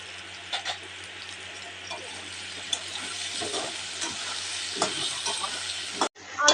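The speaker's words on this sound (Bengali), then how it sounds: "এবারে আলুটা ভেজে নেব। আলুতে সামান্য লবণ, সামান্য হলুদ গুঁড়ো দিয়ে দেব।" Potatoes seasoned with salt and turmeric fry in hot oil, giving a steady sizzle with occasional scrapes of stirring, then a brief cut and a louder rise at the very end.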